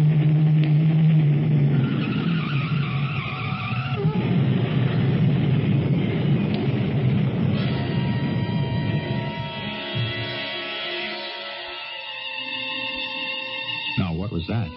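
A radio drama effect, aired in 1978, of a truck's tires skidding as it swerves off the road: a long, loud squealing roar with engine noise that slowly fades, ending in a few sharp knocks.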